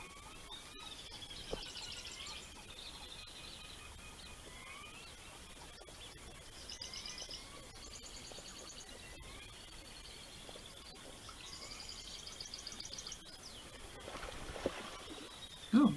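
Wetland birds sing at a distance, with faint, repeated chirping and trilling phrases that come in short bursts over a quiet outdoor background.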